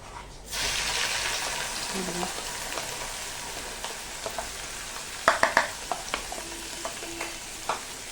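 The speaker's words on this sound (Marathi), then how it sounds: "आता याच्यामध्ये हा जो मिरचीचा खरडा आहे हा आपण टाकून घेऊया आणि छान परतून घेऊया" Red chili paste hits hot oil for Schezwan chutney, a sudden loud sizzle that stays steady while a spatula stirs and clacks against the pan, with a few brief faint voice-like tones.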